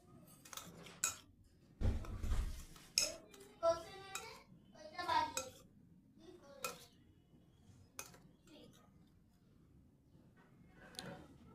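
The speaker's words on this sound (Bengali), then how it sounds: "তো আমি আরেকটু জল দিয়ে দিচ্ছি, জল দিয়ে ভালোভাবে এটাকে মেখে নিচ্ছি।" Pumpkin flower fritter batter being mixed by hand in a bowl with added water: wet squelching, dish clinks and spoon taps in uneven bursts, close and fairly quiet, with soft background sounds between.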